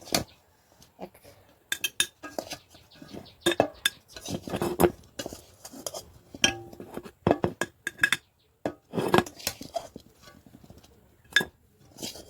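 A spoon scrapes and clinks as tamarind-style chalta pickle goes into a jar, irregular metallic taps and scoops close by, with quiet gaps between bursts.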